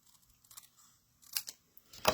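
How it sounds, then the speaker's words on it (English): Scissors snip excess paper from the edge of a diagonal panel greeting card, a few short crisp cuts near and moderately loud, with quiet pauses and a sharper final snip. "We're going to just follow the line of that and trim off that excess."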